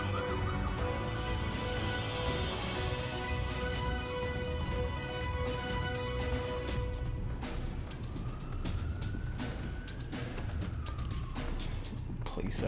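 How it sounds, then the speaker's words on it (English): Police sirens wail outside, a rising and falling tone emerging midway over a layered background of game music and ambience, moderately distant. "Police sirens going on out there."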